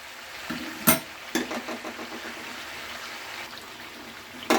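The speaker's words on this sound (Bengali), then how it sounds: "এইভাবে কষে একদম ভালো করে কষে নিতে হবে এটা।" Chicken feet sauté in oil in a pan, giving a moderate sizzle with sharp clanks of a spoon against the pan at the start and end and a run of stirring scrapes between them.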